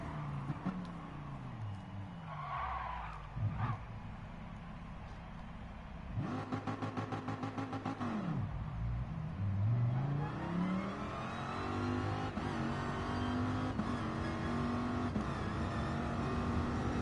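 A car engine in Gran Turismo Sport revs repeatedly at the start line of a quarter-mile drag race, rising and falling pitch sweeps with sharp bursts, loud and close, no talking.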